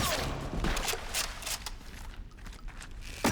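Gunshots from the AtomFall video game crack in a scattered, irregular series of sharp reports, loud up front and thinning out, with a final shot at the end.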